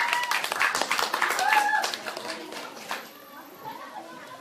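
A class audience at a school debate applauds, a burst of clapping mixed with children's voices and chatter that fades over a few seconds, leaving scattered talk.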